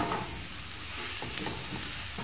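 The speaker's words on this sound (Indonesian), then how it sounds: "Tumis dulu jamur kuping, daun bawang, dan juga bumbu." Wood ear mushrooms, spring onion and spice paste stir-fry in a pan with a steady, bright sizzle and the soft scrape of stirring, close and continuous with no talk.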